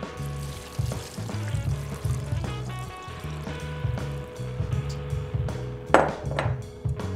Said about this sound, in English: We're gonna add 8 cups of water.